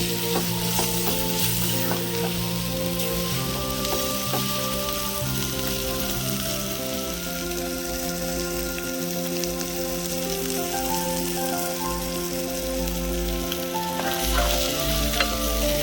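Spinach and potato curry fries in a pan, a dense continuous sizzle like heavy rain, steady and close, with a low hum underneath.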